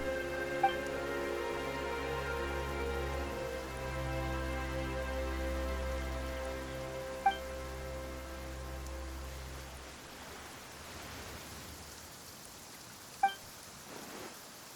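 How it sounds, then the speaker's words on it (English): Rain falls in the Genshin Impact game world as a soft, steady hiss under a sustained low musical drone, with a few faint chimes scattered through; no talking. "Why is it raining all of a sudden?"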